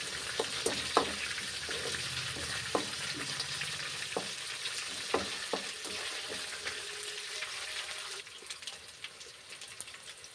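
Curry leaves and mint leaves sputter and sizzle in hot oil in a pan, a steady crackling hiss broken by sharp pops and occasional stirring clicks, close and moderately quiet.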